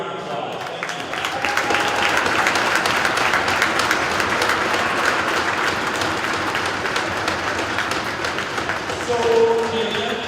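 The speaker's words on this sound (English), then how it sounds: "Let's give them a round of applause." An audience applauds at a community event before a Wilmot versus Fergus game, a dense, continuous clatter of many hands that swells in after a quiet start and carries on for about ten seconds.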